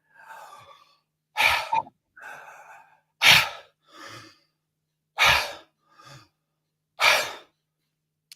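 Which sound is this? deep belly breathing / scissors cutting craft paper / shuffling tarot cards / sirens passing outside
deep belly breathing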